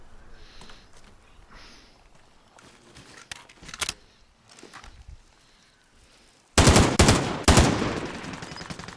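Gunfire in Call of Duty: Modern Warfare: scattered distant shots and rustling give way to a sudden loud, sustained burst of rapid close-range automatic fire, with faint soft movement noises earlier.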